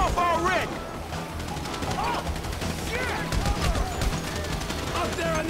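Sniper and automatic gunfire fills a Grand Theft Auto V firefight in dense, rapid bursts, loud and continuous, with shouting voices over it.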